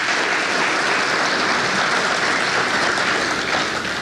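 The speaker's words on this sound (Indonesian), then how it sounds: "Tepuk tangan buat beliau." An audience at an Indonesian gold bank service launch applauds the President, a thick continuous roar of clapping from a large crowd, loud and steady from start to finish with no speech over it.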